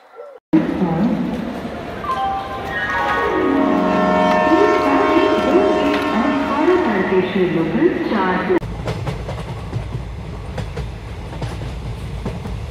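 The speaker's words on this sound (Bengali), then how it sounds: "ট্রেন চলছে" Darjeeling Mail passenger train from Howrah running on the rails, a steady rolling rumble with tonal whistle-like lines rising and falling, a voice speaking over it, then a shift to a rougher clatter near the end.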